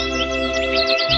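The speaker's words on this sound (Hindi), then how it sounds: "दूर से आती है चिड़िया की आवाज" Cartoon birds chirp in the distance, with short high twittering calls over a steady sustained musical background.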